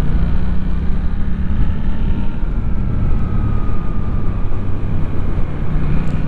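Suzuki GSX-8T neo-retro motorcycle engine held around 4,000–5,000 rpm, a loud, steady, continuous drone with a faint whine on top, no pauses and no talking.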